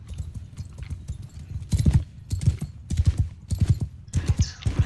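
Horses gallop in the Mount and Blade II: Bannerlord video game, with rapid clip-clop hoofbeats that start light and grow louder and denser as more riders come close, ending in a brief whinny-like sound.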